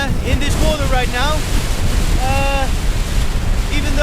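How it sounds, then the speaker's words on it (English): Strong wind of around 50 knots roars steadily over short, choppy waves on open water aboard a sailboat, with heavy wind buffeting on the microphone; brief voices and tonal calls break through the constant noise. "Really, really windy now. I estimate around 50 knots."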